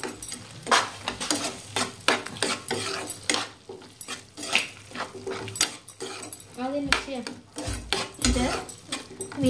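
A spoon stirs a pasta and masala mixture with garam masala, coriander powder and turmeric in a metal pan, giving repeated scraping clinks and a soft sizzle at close range over several seconds.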